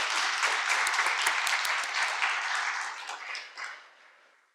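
A church congregation applauds together at an anniversary worship service in a dense, steady wash of clapping that holds for several seconds and then thins and fades away.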